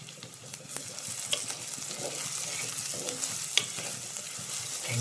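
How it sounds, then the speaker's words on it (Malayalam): Soaked green gram with salt stirred in a hot pan, a soft scraping and light sizzle with occasional spoon clicks, close and continuous, no talk. "ഇളക്കുക."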